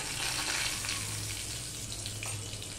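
Half a spoon of panch phoron, a torn bay leaf and a pinch of salt temper in hot oil for a vegetarian cabbage dish, giving a steady, close, crackling sizzle with no voices.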